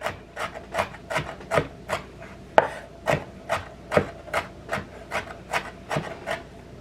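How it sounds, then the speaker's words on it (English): Knife chopping fresh tomatoes on a cutting board for pico de gallo, about a dozen evenly spaced crisp chops in a steady rhythm, close and fairly loud with no talking. "If you feel like you want your pieces smaller, just go ahead and give it another chop"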